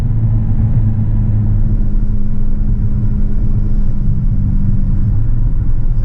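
Steady low engine drone from a BMW E92 M3 cruising on the road, heard from inside the car as a continuous rumble with a faint tonal hum and no revving peaks.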